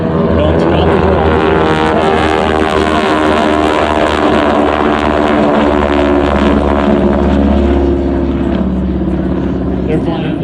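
North American AT-6 Texan World War II trainers with 600-horsepower Pratt & Whitney radial engines at an airshow, a loud continuous throbbing engine and propeller drone with a shifting pitch as the planes pass, with announcer speech over it.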